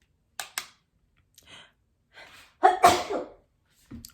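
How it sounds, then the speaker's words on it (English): A person sneezes while applying makeup: a couple of quick sharp sniffs and breaths, then one loud, close sneeze burst, followed by a soft exhale. "I feel a sneeze coming on"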